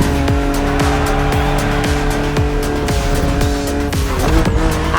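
A BMW Z4 E89 in the racing game The Crew Motorfest drives hard, its engine revving up and down through rapid gear shifts with tire squeal and skidding, loud and close throughout.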